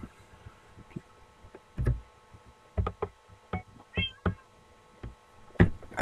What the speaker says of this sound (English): I'll see how many meows I can get now, because I'm feeling quite safe.